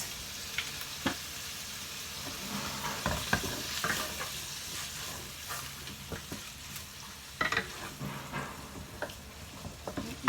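Minced pork browns in a hot pan with a steady sizzle, broken by the scrape and clatter of stirring and a few sharp pops. There is no talking.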